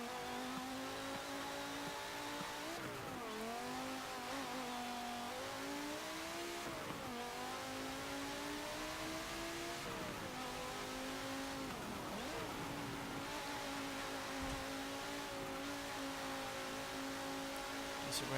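A 2011 Audi RS 3 Sportback in Forza Motorsport 7 drives hard at high speed, its engine droning loudly and steadily throughout, pitch dipping and climbing through repeated braking and gear changes, with occasional tire squeal.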